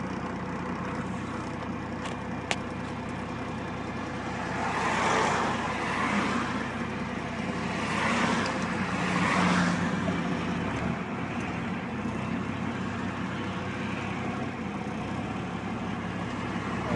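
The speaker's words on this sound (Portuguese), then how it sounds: "Esperar dar um prazo aqui que tá vindo muito carro." Traffic on a road goes past close by, a few vehicles swelling and fading in slow waves over a steady low engine rumble, with no talk.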